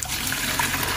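Water drains steadily out of a hydroponic container used to grow water spinach, a continuous close rushing gush with no talk over it.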